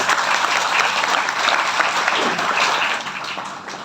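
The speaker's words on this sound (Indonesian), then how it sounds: "Tepuk tangan." Steady, dense applause from a large school crowd of students at a Maulid Nabi celebration, continuous and loud, easing slightly toward the end.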